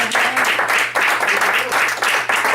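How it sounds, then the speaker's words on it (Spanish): A church congregation claps together in a steady, loud burst of applause that carries on without a break, close and full, with a faint low hum underneath. "Denle palmas al Señor Jesús"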